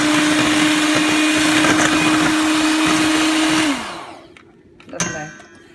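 An electric mixer whisking two egg yolks into a pudding mixture, a loud steady motorized whir that winds down after nearly four seconds, followed by a light clink of the bowl.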